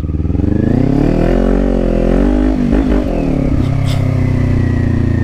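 A Kawasaki 400cc big bike engine on a test ride, a loud close drone whose pitch climbs and dips as the throttle rises and eases, with steady wind rush behind it.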